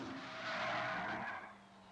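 Race cars in the Mille Miglia street race in northern Italy skid with a sustained tire squeal over engine roar, heard at moderate distance and then easing off.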